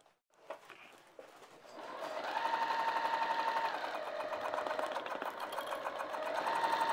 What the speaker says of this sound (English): let's sew the sides and the bottom